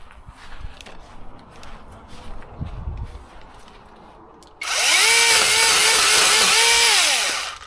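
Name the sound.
Seesii 2-in-1 pole saw cutting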